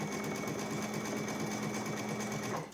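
An embroidery sewing machine stitches freestanding lace baby booties together, a close, steady rapid whir of needle strokes that runs evenly before winding down at the end.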